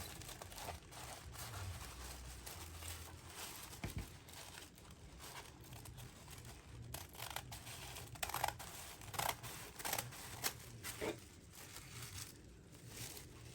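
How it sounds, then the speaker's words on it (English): Scissors snip through folded tissue paper in a quiet room, a series of short crisp cuts and soft crinkles coming irregularly and growing busier toward the end. "I'm just going to cut along those folds."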